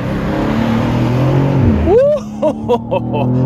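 A 460-horsepower rear-wheel-drive BMW M2 accelerates hard, its engine rising loudly and steadily through the revs, then easing off as short bursts and chirps follow near the end.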